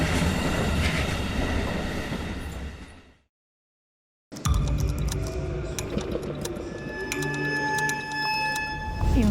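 Train rumble and rail noise at a station once used for deportations from the Baltic states to Siberia, loud and continuous with a brief dropout of silence midway, then resuming with steady clatter and tonal squeals.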